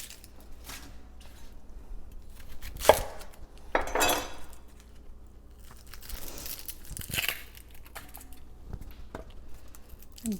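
Kitchen knife slicing the ends off an onion on a cutting board, a few separate crisp chops and crunchy cuts with soft rustling of onion skin in between, close and fairly quiet, no talking.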